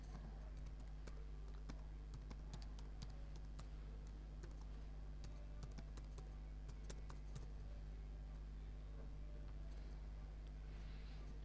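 Quiet, rapid clicking of a computer keyboard as an email address is typed, a steady run of light keystrokes under a faint background hum.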